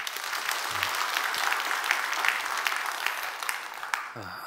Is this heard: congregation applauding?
yes